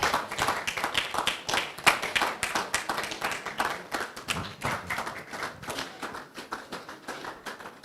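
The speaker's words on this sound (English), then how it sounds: "Please, a round of applause for them as they step forward." Steady crowd clapping fills a showcase stage as members of a media company's staff come up, many hands beating in a dense, continuous patter with occasional sharper slaps, moderately loud and without speech.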